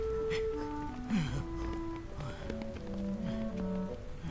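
Steady rain patter from the video game Deemo II, a soft continuous wash running under gentle piano and music tones throughout.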